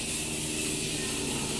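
A Morphe Continuous Setting Mist bottle sprays onto a face as one steady, close hiss that lasts throughout, over faint background noise from a passing plane.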